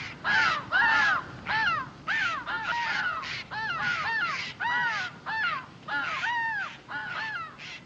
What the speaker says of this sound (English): The jays and the crows squawk at us when we pass.